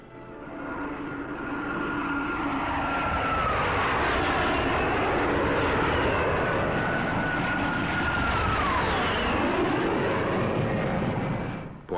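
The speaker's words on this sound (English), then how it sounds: "Portugal's air squadrons are equipped with NATO jets." NATO jet fighters flying for Portugal's air squadrons, a loud sustained engine roar with a whine that rises and falls as the aircraft pass. No voices, and the roar holds steady for nearly the whole stretch.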